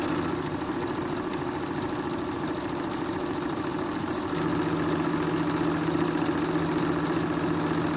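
A sewing machine runs a straight stitch at a quarter-inch seam allowance, a steady close motor hum with rapid needle chatter that gets a little louder and higher partway through, with no talk.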